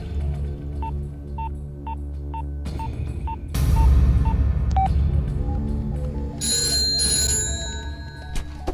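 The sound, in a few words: telephone ringing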